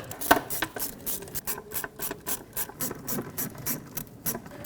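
A hand ratchet tightens bolts on a Ford Ranger 4.0L V6 engine during a knock sensor replacement, giving close, rhythmic bursts of sharp clicking strokes with short pauses between them.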